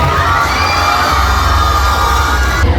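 Schoolchildren cheering and shouting at a Teachers' Day celebration at Karunya Christian School, a loud continuous crowd roar filling the whole moment; no clear clapping stands out and no words are spoken.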